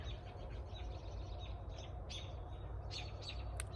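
Several birds chirp and tweet outdoors in short, scattered bursts that grow busier toward the end, set over a steady low rumble of background noise and heard at moderate distance.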